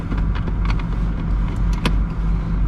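An Aston Martin Vantage 4.7 V8 pulls away, its engine a steady, fairly loud close-up rumble heard from the cabin, broken by a few brief light knocks and clicks.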